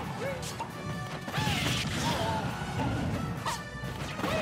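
Banjo lands an up smash attack in a Super Smash Bros tournament match, producing sharp crashing impacts with whooshing game effects. The hits repeat over a dense, continuous background of game noise.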